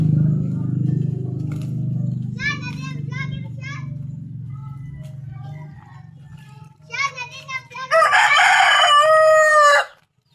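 Chickens cluck in short bursts over a low rumble, then a rooster crows loudly near the end, with children's voices around.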